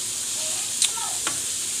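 Steady sizzling of carrots, cabbage, onion and garlic frying in a pan, with a couple of brief clinks of a utensil stirring partway through.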